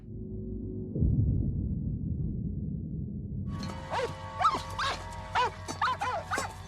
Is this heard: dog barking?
yes